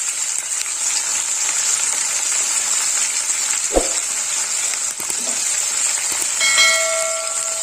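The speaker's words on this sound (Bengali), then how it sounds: "এবার আমি বাঁধাকপিটা ভেজে নেব লাল লাল করে" Sliced cabbage frying in a hot pan, a steady bright sizzle that runs unbroken throughout, with a brief stir or scrape partway and a faint ringing tone near the end, no talking.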